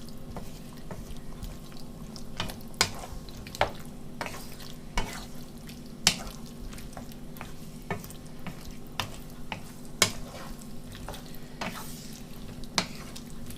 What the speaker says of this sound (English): a tablespoonful or something like that of tomato puree, and just stir it in and keep on stirring until it's nicely incorporated.